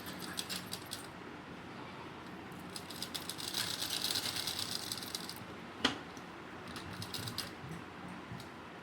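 A sewing machine stitches a pocket onto a ladies' kurti in quick bursts of light mechanical clatter, separated by pauses. A sharp single click stands out partway through.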